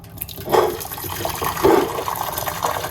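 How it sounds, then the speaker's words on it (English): Hot water pours into a cup in a short, gurgling stream with two swells of splashing, close by and without any talking. "we're gonna put hot water"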